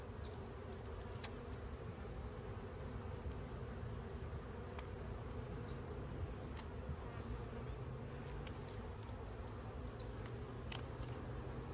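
Honeybees buzz steadily around a nuc hive, a constant dense hum with occasional individual bees darting close by. Continuous outdoor hiss sits underneath throughout.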